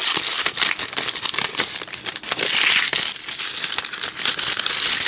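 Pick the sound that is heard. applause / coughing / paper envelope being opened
paper envelope being opened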